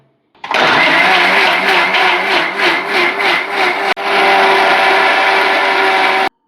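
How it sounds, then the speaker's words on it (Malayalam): A mixer grinder runs continuously, grinding roasted spice paste with tamarind and small onions in a home kitchen, a loud steady motor whir with a brief pause near the end before it resumes. "എന്നിട്ട് നന്നായിട്ട് അരച്ചെടുക്കും കേട്ടോ"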